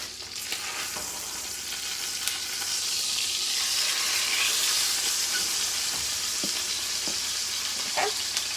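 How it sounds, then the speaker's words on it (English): Steak searing rare in a hot pan, a steady broad sizzle and crackle with occasional pops, close and continuous, no talk. "bottom is getting seared"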